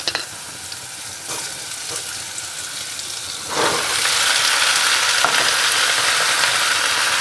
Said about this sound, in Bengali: এখন এই তেলের মধ্যে আমি ঝিঙ্গেগুলো ছেড়ে দিচ্ছি।